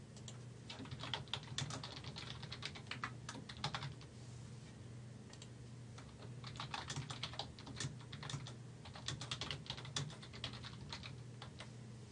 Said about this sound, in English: Enter a subject and type your message.